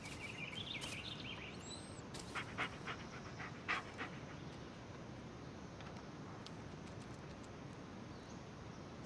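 Dog panting in the Blair Witch game, soft and faint rhythmic breaths in a quiet outdoor setting, with a few scattered bird chirps and clicks in the background.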